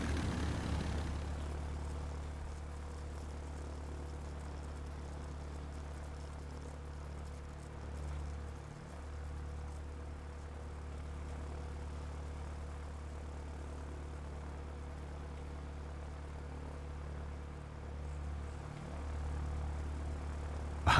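Propeller and jet engines of a Meteor and Spitfire squadron droning steadily in the airfield game Ground of Aces, a continuous low hum that briefly dips and swells twice as the aircraft pass.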